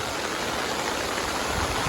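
Heavy typhoon rain pouring down amid flowing floodwater near street drains, a loud, dense and unbroken roar of water that fills the whole span without pause or speech.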